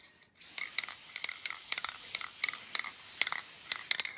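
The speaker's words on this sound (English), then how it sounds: "Spray our pads just so we can prevent some squealing from happening." Brake lubricant sprays onto Nissan Pathfinder rear brake pads, a steady close hiss starting abruptly after a moment of quiet, with sharp rattling ticks scattered through it.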